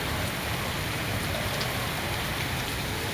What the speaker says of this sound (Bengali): বৃষ্টির ঝড় কাকে বলে দেখো, কি হারে হচ্ছে ঝড় বৃষ্টি